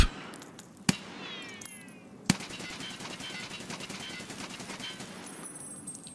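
Rifle fire in the shooter game Singleplayer Tarkov: two sharp isolated shots stand out, followed by a sustained rattling burst of rapid fire that runs steadily to the end, fairly faint overall with no talking.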